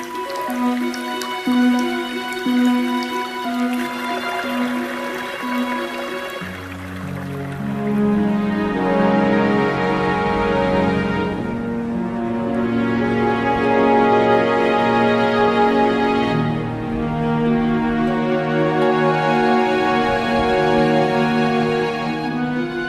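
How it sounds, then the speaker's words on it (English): Meltwater trickles and drips in a mountain spring on the Arlberg as winter thaws, with continuous close trickling and bright dripping layered under a sustained tonal bed, steady and fairly loud. "The trickle and murmur of water is everywhere."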